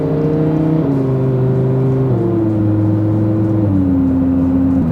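A 1000hp Lamborghini Huracan running cold on ethanol drives steadily, its engine droning loud and close with smooth stepped pitch changes as gears shift, no voices over it.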